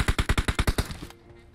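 A teammate's rifle fires a rapid automatic burst of about eight evenly spaced, punchy shots in PUBG Mobile, then stops and leaves a short fading tail of quiet ambience.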